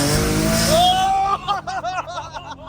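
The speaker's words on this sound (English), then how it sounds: "I could literally hear like the turbo spooling." A turbocharged Infiniti G35 coupe spools up, a rising whine climbing over the engine note before people start talking over the fading car.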